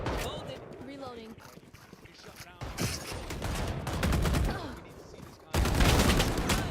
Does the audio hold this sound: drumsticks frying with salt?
no